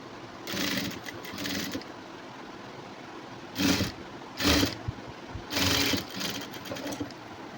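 A sewing machine stitches a high neck blouse in short, loud whirring runs of a second or two each, separated by quieter pauses, with no talking.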